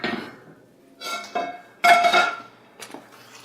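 A metal frying pan clanks and scrapes a few times in short bursts, close by, with brief pauses between the handling sounds.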